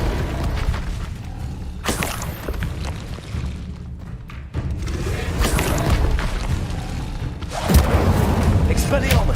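Spell combat in the video game Hogwarts Legacy on hard mode, with an Incendio fire spell cast amid other spells: loud bursts, thuds and crackling blasts recur over continuous effects and music, with a voice calling out spell names.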